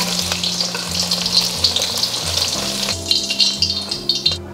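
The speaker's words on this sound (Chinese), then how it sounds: "煎至两面都是金黄色， 我们就给它捞起来" Tofu pan-frying until golden on both sides: a loud, steady crackling sizzle of oil over a low humming drone, with occasional sharper pops, easing off near the end.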